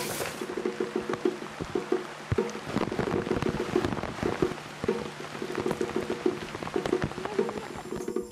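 Rain falling steadily outdoors near a charcoal-making site in the countryside, a continuous hiss of drops on surfaces with scattered sharper patters and no voices.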